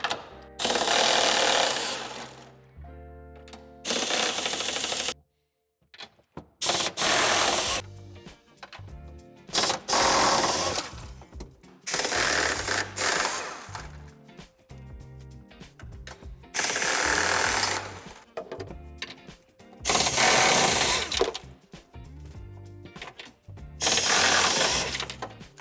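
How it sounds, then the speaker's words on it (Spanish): Nuts are removed from the tow bar reinforcement of a 2021 Mercedes C-Class Estate, with bursts of a power tool's whirring and rattling in repeated on-off spells separated by short pauses. "Para desmontar el refuerzo quitaremos las 2 tuercas de la parte exterior"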